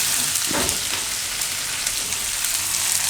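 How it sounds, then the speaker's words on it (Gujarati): Sliced okra sizzles and fries loudly in a pan for a Gujarati gravy dish, a dense continuous crackle with a brief stir near the start. "ભીંડાને આમાં પકાવી લઈશું આપણે"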